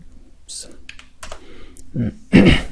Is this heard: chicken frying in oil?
no